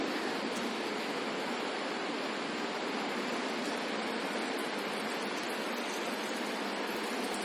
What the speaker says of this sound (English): Now we have to put some water in it.